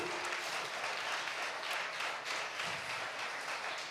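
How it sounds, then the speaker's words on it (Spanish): A church congregation claps together after a sermon on fasting, a dense, steady wash of applause that stays fairly constant throughout without any speech over it. "Dale un aplauso, aleluya."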